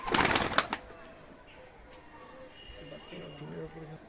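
A male Sialkoti pigeon with clipped wings is let go, giving a short burst of loud wing flapping at the start, then faint cooing while someone talks.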